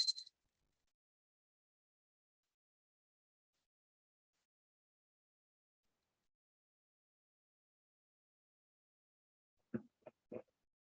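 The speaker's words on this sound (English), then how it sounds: "And now I take a bell to offer the element of sound, and I'll ring that 3 times" A hand bell is rung three times during a Hindu pooja, three short, faint strikes in quick succession that come after a long stretch of near silence.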